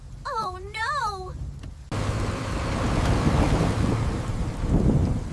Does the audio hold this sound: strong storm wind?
yes